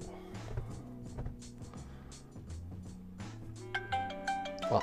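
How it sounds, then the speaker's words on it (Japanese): A phone ringtone chimes out as an incoming call arrives during a casual chat stream, a bright repeating melodic ring over background music, rising louder toward the end. "あ、電話かかってきた。"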